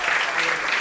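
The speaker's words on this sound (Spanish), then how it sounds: "¡Un aplauso para Clara Calvo!" Studio audience applause for Clara Calvo on a Spanish talk show, a steady dense burst of clapping filling the short moment with no one speaking over it.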